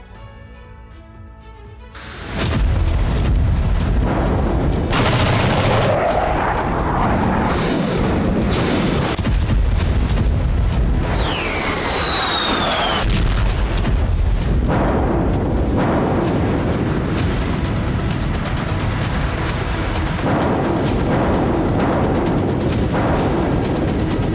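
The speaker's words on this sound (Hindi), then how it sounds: "अनगिनत धमाके" Loud, continuous rumbling explosions and booms, a dense barrage of blasts with a brief whistling streak partway through.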